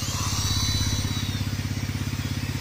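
Motorcycle engine running to drive a simple homemade electricity generator, a close, steady low idle with a fast, even thumping pulse throughout, no talking.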